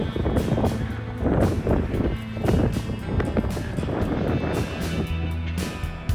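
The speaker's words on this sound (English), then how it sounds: "It is so windy here right now." Gusty wind in Dodge City buffets the microphone in loud low rumbling bursts, with a steady roar underneath throughout.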